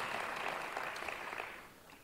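Audience applause at a ceremony honouring flamenco guitarist Antonio Piñana as Hijo Predilecto: a soft, distant wash of clapping that holds steady and then slowly fades.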